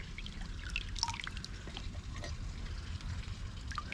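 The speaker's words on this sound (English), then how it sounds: "Yes, I'm sticking my hand in this water" Soft water sloshing and dripping close by as a hand moves slowly through shallow creek water, with small splashes and trickles over a low steady rumble.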